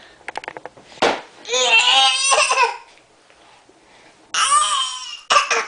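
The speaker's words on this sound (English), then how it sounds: "I don't know what all this fake coughing's about." A young child fakes a cough indoors with short sharp coughing bursts and squealing, vocal noises in between, loud and close, with pauses of quiet.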